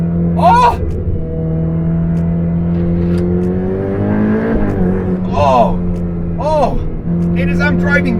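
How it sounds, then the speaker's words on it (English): Ferrari 488 Pista Spider turbocharged engine rumbling steadily while driving, with one rising rev midway, heard throughout beneath someone talking excitedly. "I know it's a turbo engine, but it sounds like a Ferrari"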